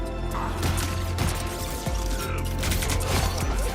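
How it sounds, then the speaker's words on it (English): Dense, continuous combat racket from Iron Man's pulse cannon in Marvel Rivals: rapid energy blasts and crashing impacts layered over a steady mechanical hum, loud throughout with no pauses. "Nobody can hang with the pulse cannon."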